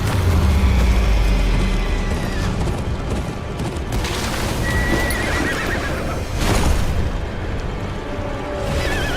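Video game horses whinny and neigh loudly while hooves clatter in a gallop, amid booming rumbles and a dense, chaotic battle-like din, in Game of Thrones: Kingsroad.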